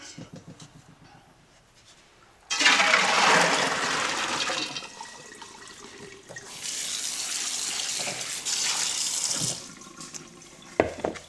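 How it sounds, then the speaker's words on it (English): Water from overnight-soaked black and red beans gushes and splashes into a sink in two long bursts, draining noisily with brief pauses between pours. "I'm just going to drain out the water from last night."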